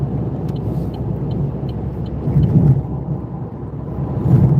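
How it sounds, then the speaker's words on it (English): Heavy lorries rumbling past on the M11 motorway, a steady broadband road roar with louder swells as vehicles pass close by, no voices. "Oh, it's lorry's day out."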